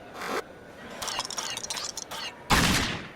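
Gunfire in a shooting-gallery minigame in the video game Rage: a short burst, then a rapid crackling run of shots, then a louder final burst.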